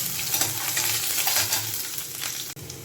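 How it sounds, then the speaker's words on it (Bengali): Whole garlic cloves fry in hot oil, giving a loud, dense, steady sizzle with stirring scrapes throughout and a sharp clack near the end. "গোটা রসুনের কোয়া আমি এই গরম তেলে দিয়ে দেব। দিয়ে ভালো করে নাড়াচাড়া করব, একটু লাল লাল করে"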